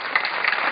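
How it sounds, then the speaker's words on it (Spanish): Audience applause at a live folk guitar concert in Lomas de Zamora, honoring the double bass player; a short, dense burst of clapping, steady and fairly loud throughout. "así que un aplauso muy fuerte para él"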